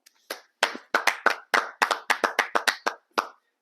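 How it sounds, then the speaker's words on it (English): Several people clap together in short, uneven bursts, about a dozen sharp close claps over a few seconds, cheering a Hawkeyes win, with no talking. "Let's clap it up."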